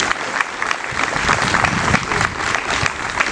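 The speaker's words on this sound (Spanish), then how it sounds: "Un aplauso, Señor, por ello." A church congregation breaks into steady, dense applause during a pastor's sermon, a continuous wash of many hands clapping at close range with a faint voice mixed in.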